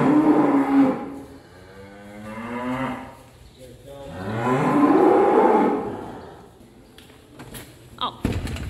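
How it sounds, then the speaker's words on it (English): Dairy cows mooing as they come into a milking parlor, several long, loud, drawn-out moos close by, followed by a door clunk near the end. "The cows are coming in. Yeah, they're talking."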